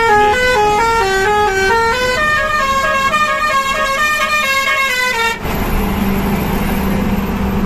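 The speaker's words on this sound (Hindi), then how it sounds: "थोड़ी सी हॉर्न बजा" A loud vehicle horn blares in a long, steady, sustained honk, layered with harmonics, and cuts off abruptly, leaving road noise and engine rumble.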